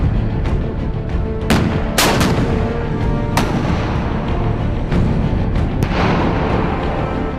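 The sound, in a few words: K1 tank main gun firing live rounds while moving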